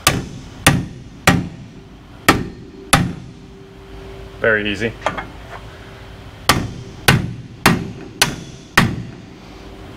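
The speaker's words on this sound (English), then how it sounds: "Bring in the small hammer." Sharp metallic strikes of a small hammer on metal of a 1986 Ford Ranger, about a dozen, in irregular bursts with a pause in the middle where a voice briefly speaks.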